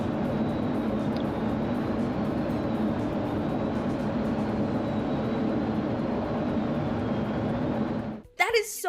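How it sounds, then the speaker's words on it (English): US Air Force Thunderbird F-16 jets fly in tight formation, a loud, sustained engine roar that holds steady for several seconds before cutting off abruptly near the end. "This is a video of some US Air Force Thunderbird F-16s."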